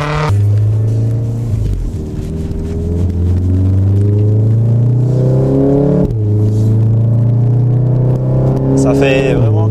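A VW Golf 7 R engine booms inside the cabin, rising in pitch through repeated accelerations with brief drops between gear changes. A loud, resonant growl dominates, with faint voices underneath.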